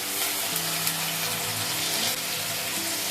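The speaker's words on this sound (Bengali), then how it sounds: "পেঁয়াজ রসুনটাকে ভালোভাবে ফ্রাই করা হয়ে গেছে" Onion and garlic sizzle in a pan for a spinach and fish curry, a continuous close hissing fry with a faint bubbling undertone and no talk.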